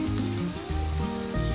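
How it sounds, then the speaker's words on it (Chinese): Vegetables being stir-fried with soy sauce, salt and pepper for a vegetarian spicy miso ramen, giving a close sizzle under strong sustained tonal hum and shifting buzz, short and continuous. "炒均匀"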